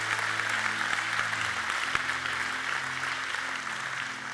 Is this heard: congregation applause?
yes